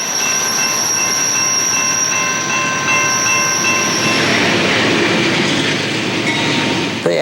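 A train rumbles past in Louisville with a steady clatter, metal wheels squealing high and continuously throughout, no voices.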